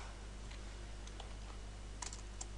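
Sparse, light clicks from someone typing on a computer keyboard, a handful of soft taps scattered over a constant low hum, no speech.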